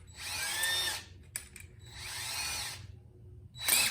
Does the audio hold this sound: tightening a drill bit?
yes